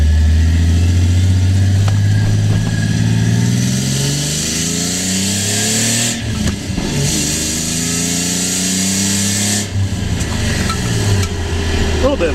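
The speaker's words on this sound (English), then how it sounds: "A little bit of a backfire." A Nissan Z car cruising at night with an air-fuel controller fitted, its engine revving up through the gears with a couple of brief, sharp backfire pops over the steady drone, near and loud.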